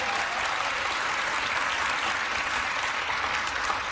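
A studio audience applauds, a dense, steady clatter of many hands clapping that holds evenly throughout.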